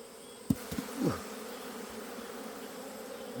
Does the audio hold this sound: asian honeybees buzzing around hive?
yes